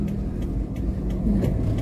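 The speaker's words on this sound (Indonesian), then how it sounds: "Kok banyak mobil?" Busy street traffic in the late afternoon, with several cars rolling past close by in a continuous rumble and engines droning with no break.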